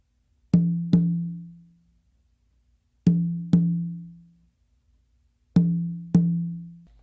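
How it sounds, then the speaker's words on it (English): Three pairs of hand-drum strokes on a conga and tumba, each pair a sharp hit followed quickly by a ringing open tone, spaced evenly with silence between, close and clear with no voices. "After doing that close slap with your dominant hand on the conga"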